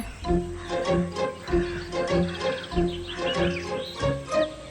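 Cartoon crows cawing around a tree branch where a granny sits, a steady run of repeated bird calls in a regular rhythm, fairly loud and close, with no talking.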